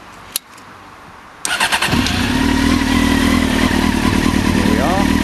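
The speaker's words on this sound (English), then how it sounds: "I'm going to start it up so you can have a listen to the motor." A Honda Fireblade RR motorcycle engine, fitted with a painted seat cowl, cranks over and catches after a sharp click, then settles into a loud, steady idle close by. A brief voice is heard near the end.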